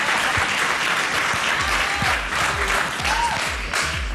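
Studio audience at a live Greek television dance competition applauding continuously and loudly, dense clapping with a little crowd noise.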